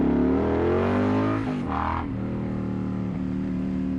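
Indian Pursuit motorcycle fitted with a Toce Performance exhaust, engine droning loud and close with a rising tone, a quick throttle blip midway, then settling into a steady rumble.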